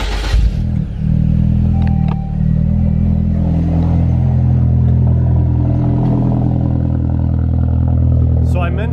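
A Saab 9-3 Aero engine cranks and catches, then settles into a steady, close idle with a low rumble that continues to the end.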